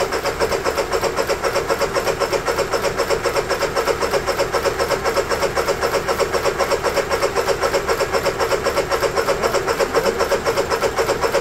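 A Honda EU3000is generator engine fed starter fluid cranks and fires in a fast, even, repeating pulse that holds loud and close for the whole stretch.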